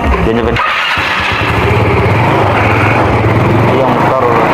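A homemade three-wheeled motorcycle engine starts with a brief cranking sputter, then catches and runs loud and steady at close range, a continuous buzzing drone.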